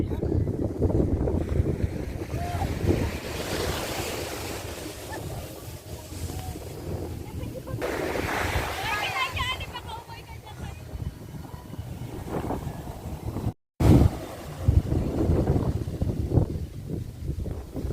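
Rushing ocean waves mixed with heavy wind buffeting the microphone, with faint voices and a boat-like rumble underneath.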